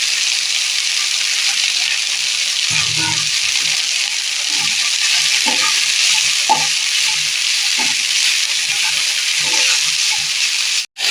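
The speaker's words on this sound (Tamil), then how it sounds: "இந்த கொத்தமல்லி வந்து ஒரு பத்து செகண்ட் வதங்கினா போதும்" Coriander leaves with their stems sautéing in a pan for a chutney, a steady close sizzle and fry hiss running throughout with occasional stirring scrapes and soft clatter.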